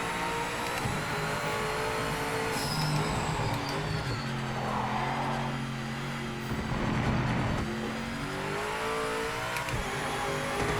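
Race car engine in the Project Motor Racing video game, on cold tires during a traction control test, revving and shifting through gears in steady loud sweeps, close up with no voices.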